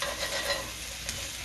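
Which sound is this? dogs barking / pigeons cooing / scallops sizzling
scallops sizzling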